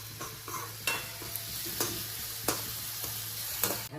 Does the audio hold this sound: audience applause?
no